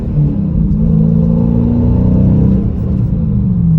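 A 2021 Dodge Challenger Scat Pack with a six-speed manual accelerates at half throttle in second gear, its engine note a loud, steady, deep rumble that climbs gradually in pitch, with no talking over it.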